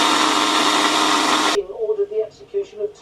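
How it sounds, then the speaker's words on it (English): A kitchen blender whizzes fennel and onions in a steady, loud whir for about a second and a half, then stops abruptly, and a voice talks afterward. "I'm going to whiz up the fennel and the onions."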